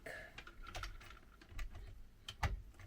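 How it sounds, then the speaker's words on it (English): A few faint, small plastic clicks as tubes are pushed into the ports of a Bambu AMS Lite, quiet and close, separated by brief pauses. "it should make a little click, and then you know they're in there"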